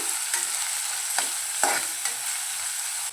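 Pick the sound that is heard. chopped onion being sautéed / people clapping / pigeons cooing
chopped onion being sautéed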